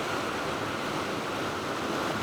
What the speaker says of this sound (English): I love this dramatic ocean scenery.